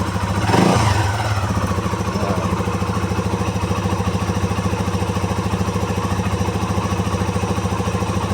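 A Modenas Z15GT motorcycle engine idles steadily and close by with an even, rapid mechanical pulse, after a brief louder knock near the start.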